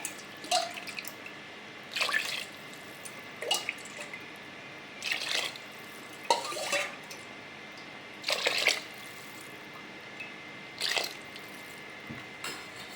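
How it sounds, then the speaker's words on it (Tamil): Tumblers of water are poured into a pot for cooking rice and dal in a village kitchen. Several separate splashing pours come in bursts a second or two apart, with quiet gaps between them. "மொத்தம் 4 டம்ளர் தண்ணி ஊற்ற போகிறேன்."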